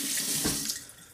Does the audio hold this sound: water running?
yes